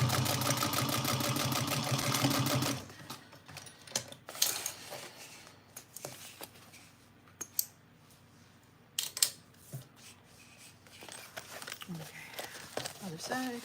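A sewing machine runs in a loud, steady mechanical burst while stitching a box bag, then stops, leaving scattered clicks, fabric handling and a few short whirs, with a person talking during the quieter part.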